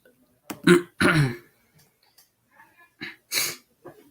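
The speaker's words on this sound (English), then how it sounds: "I gotta clear my throat" Someone clears their throat with a couple of rough, gravelly bursts, followed by a short pause and another harsh clearing sound, close to the microphone.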